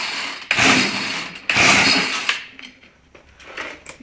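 A homemade 31cc petrol engine in an RC car revs in two loud, sustained bursts, each cut sharply, then drops to a rough, fainter running sound with sputters; no talking is heard.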